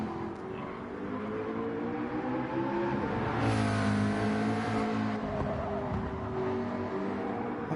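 A McLaren race car engine drones in a racing video game at Suzuka, a steady revving whine that rises and swells midway, heard continuously without talk.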